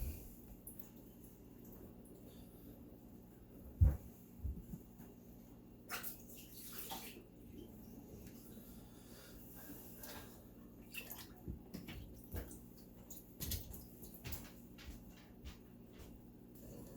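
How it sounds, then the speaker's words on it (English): Slimy water being bailed with a cup out of a dishwasher that won't drain, giving close wet sloshes, scoops and drips with a sharp knock near the start and more splashing later. "so I'm bailing out this cup."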